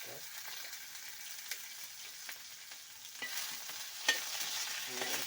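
Onion frying in oil over a village wood-fired stove, heard as a soft, steady sizzle with faint stirring scrapes and a few light clicks, fairly quiet and free of speech.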